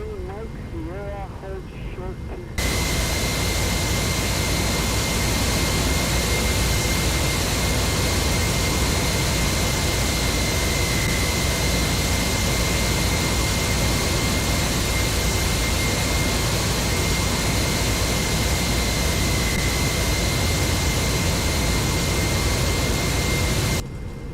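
Boeing 767-400ER jet engines idling and rolling during taxi in the X-Plane 12 flight simulator, a loud steady roar with a high whine, continuous after a brief quieter start.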